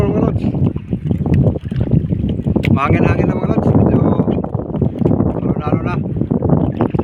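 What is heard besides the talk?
wind at sea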